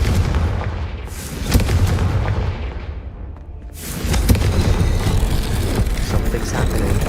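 A heavy booming blast from the Confringo fire spell in the Hogwarts Legacy video game, followed by crackling rumble, then a second powerful explosion that rolls on loudly.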